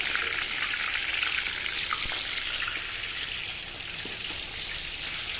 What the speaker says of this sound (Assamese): এইফালে মোৰ মাংসখিনি ফ্ৰাই হৈ গ'ল।